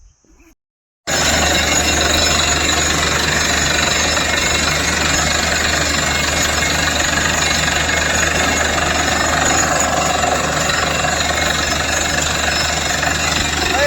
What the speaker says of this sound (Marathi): डायरेक्ट दगडावरच त्याला कटर लावायला